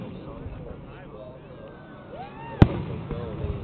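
Fireworks bursting in the Webkinz video game during a Fourth of July celebration, with a sharp loud boom near the end over a steady bed of crackling game noise and faint talk.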